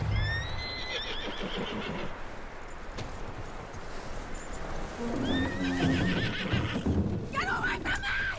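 Horse in Red Dead Redemption 2 whinnies several times in a high, rising neigh amid clip-clopping hooves and game ambience, with a second whinny near the end; talk runs underneath.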